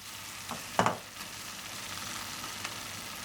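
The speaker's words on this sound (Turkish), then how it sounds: "Pişmeye başladıktan sonra sucukları ekliyorum." Sucuk sausage slices frying in a pan in a tomato-paste breakfast sauce: a soft, low hiss with a couple of brief knocks near the start, faint and without voices.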